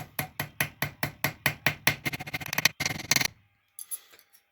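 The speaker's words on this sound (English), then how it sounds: "Using the ball peen side to spread it out more." A ball peen hammer pounds hot copper on a metal surface, giving about a dozen sharp, evenly spaced ringing strikes that speed up into quicker blows, then stop, followed by a few faint taps.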